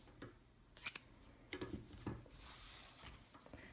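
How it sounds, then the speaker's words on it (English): Scissors snip crochet yarn in a few quiet, crisp clicks spaced irregularly, close and faint against a soft room background. "I just need some scissors"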